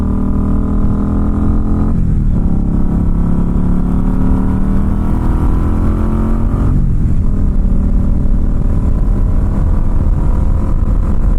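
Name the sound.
Indian Scout Bobber Sixty motorcycle accelerating onto highway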